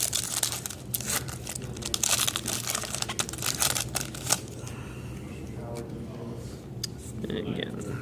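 Crinkling, tearing plastic of a Magic Origins booster pack wrapper being opened, a close, busy rustle that runs for several seconds before easing off into quieter handling noise.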